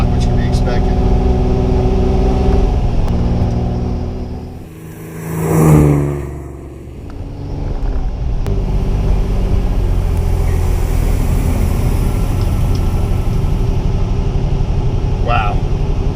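A car engine runs steadily throughout a test drive, with a brief swell as it revs midway before settling back into a constant drone.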